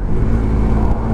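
A Suzuki GSX-R125 motorcycle engine held at high revs, a steady loud drone with no clear rise or fall, heard close and continuous with no speech.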